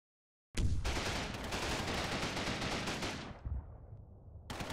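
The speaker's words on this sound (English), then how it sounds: "A sustained rate of suppressing fires are being laid on suspected and known German battle positions" Combat Mission Normandy battle with sustained machine gun and rifle fire, a loud rapid rattling burst starting abruptly after a brief silence, running several seconds before cutting off and then resuming.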